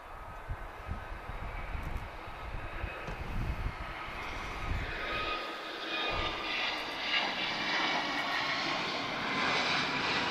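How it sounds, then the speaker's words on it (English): An Airbus A321 begins its takeoff roll at Lisbon Airport, heard from a distance as a jet engine roar that builds steadily and grows louder and brighter over the whole stretch. "quite a long takeoff roll for an A321 there"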